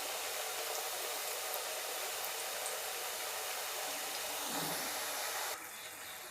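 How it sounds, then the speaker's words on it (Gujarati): Rava maida farsi puris frying slowly in medium-hot oil give off a steady, even sizzling hiss, close and unbroken, dropping off abruptly near the end with no talking. "આપણે ધીમા ગેસે તળી લેશું."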